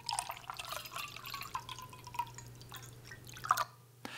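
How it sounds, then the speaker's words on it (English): A thin, trickling pour of liquid from a teapot into a cup, gentle and steady, with a few brighter splashes near the end. "take two pouring moments and combine them into one longer pour"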